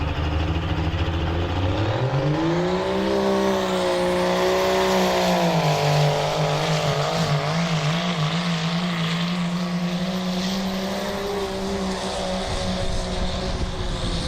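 A 2.5 diesel class truck called Strictly Business, driven by Eric Whitmarsh, pulls a sled at a competition, its engine roaring steadily under heavy load with a climbing then wavering pitch as it works down the track.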